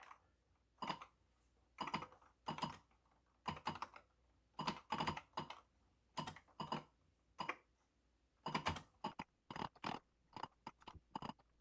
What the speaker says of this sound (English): Again, make sure you type new.